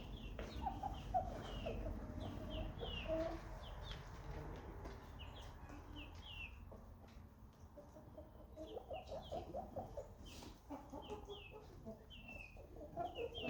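Chickens clucking and calling in a barnyard, several birds near and farther off, with scattered chirps and steady outdoor background noise.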